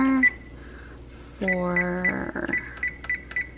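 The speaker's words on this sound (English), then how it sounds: "Okay, pizza is in the oven and I am going to set the timer" An oven timer being set, with a series of short electronic beeps from keypad presses, one longer tone partway through and more quick beeps after, plus a brief spoken word.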